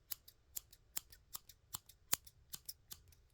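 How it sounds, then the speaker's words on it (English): Scissors snip close beside the ear in a quick series of about ten crisp, bright clicks, spaced unevenly and heard quietly against near silence. "Okay, so I'm going to start with just some scissors."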